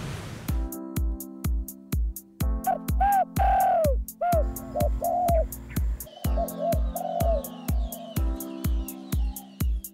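Tekukur, a spotted dove, cooing in repeated soft, rolling phrases over a loud, steady, rhythmic ticking and thumping pattern that runs throughout.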